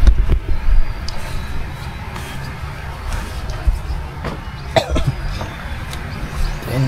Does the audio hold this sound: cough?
yes